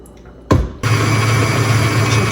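A stand mixer kneads bread dough made with turmeric and salt. A short clatter comes first, then the motor settles into a loud, steady, close whirring hum.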